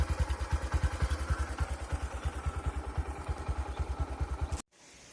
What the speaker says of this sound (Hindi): तो अब मैं बाइक में इनको घर को ले जाऊंगा